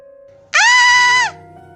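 A young goat lets out one loud, strained bleat of fright lasting under a second and rising in pitch at the start, set against quiet forest background.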